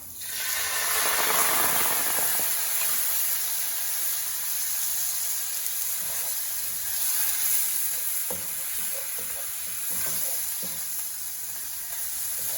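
White wine poured into a pan of shrimp over a medium flame sizzles loudly and steadily, a bright hiss with occasional light stirring clicks.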